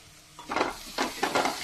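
Chopped onions and carrots sautéing in a pan as they are stirred: a hiss that rises and falls in three or four sizzling surges, with faint scraping, up close and without talk.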